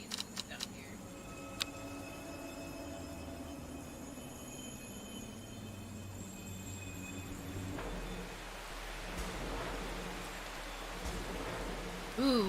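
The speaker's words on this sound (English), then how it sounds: "Ooh, it's rainy." Steady rainfall in the Vampire Survivors video game, a soft continuous hiss with a low rumble joining partway through and faint tonal game sounds at the start.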